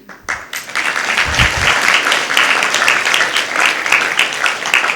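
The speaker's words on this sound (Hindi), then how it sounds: "ताली 1 ही बजी" A crowd at a satsang gathering breaks into applause, starting with a few scattered claps and a brief low thump before swelling into a steady, full round of clapping that carries on to the end.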